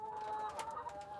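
Organic breeding hens on a mountain poultry farm cluck softly in a brief, faint burst of a few calls, slightly distant.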